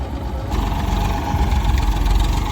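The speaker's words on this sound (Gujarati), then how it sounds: "દેવ સિવાય જો આ ટ્રેક્ટર મૂકીને આવે છે" A tractor engine runs steadily nearby with a low, continuous rumble that stays level throughout, no voices over it.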